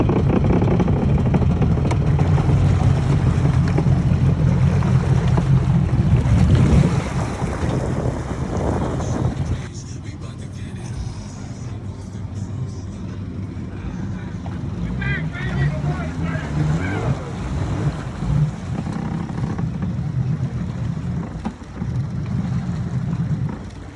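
A 2000 Sea-Doo GTX jet ski engine drones steadily, with heavy wind buffeting the microphone and a drop in intensity partway through.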